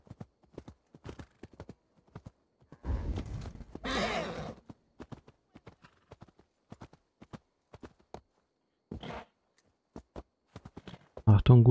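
In the video game Assassin's Creed Valhalla, a horse's hooves clop in a sparse, irregular walking rhythm, broken by a couple of longer breathy snorts or whinny-like bursts and a louder final thud, all fairly close.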